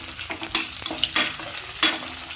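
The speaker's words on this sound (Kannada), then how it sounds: "ಫ್ರೈ ಮಾಡ್ಕೊಳ್ಳೋಣ ಈರುಳ್ಳಿ ಎಲ್ಲ." Onions frying in a pan with chopped mint and bay leaves for a mint chicken gravy, a steady close sizzle broken by several louder bursts as the pieces are stirred, with no talking.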